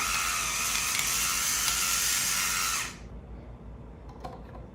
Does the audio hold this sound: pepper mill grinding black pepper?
yes